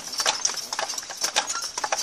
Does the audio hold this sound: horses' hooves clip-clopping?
yes